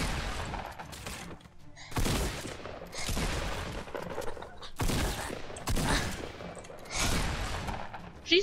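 Bursts of gunfire from a first-person video game shooter, several rapid volleys in quick succession, loud and close, with brief pauses between them.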